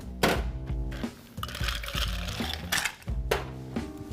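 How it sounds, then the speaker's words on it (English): Ice being added to a cocktail mixing glass for a nonalcoholic Negroni, with several bursts of clattering, clinking cubes and hard knocks against the glass, close and fairly loud. "We're going to add ice."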